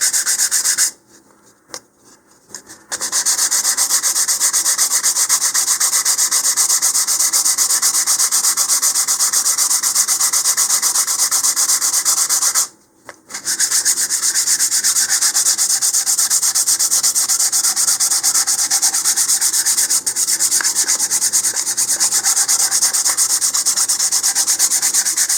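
Hardwood being hand-sanded with 150 grit sandpaper for a model rocket build, a steady, loud, continuous rasping rub that runs almost throughout, broken by a short pause near the start and another brief gap midway.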